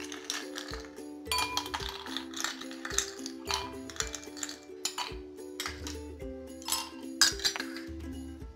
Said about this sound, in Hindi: अपने सर्विंग ग्लास में थोड़े से आइस क्यूब्स डालेंगे